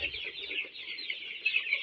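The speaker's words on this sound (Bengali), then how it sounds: "আমরা একটা মুরগির ফার্মে আছি" Many chickens clucking at a farm of broiler and Sonali birds, a continuous busy chatter from the flock with a few sharper calls near the end.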